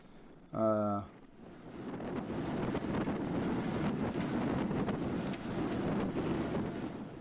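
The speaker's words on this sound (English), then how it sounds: "So the wind is coming here left to right" Wind roars steadily across the microphone during a fast bike race on bad, pothole-strewn pavement, a broad continuous rushing close to the mic after a brief tonal blip at the start.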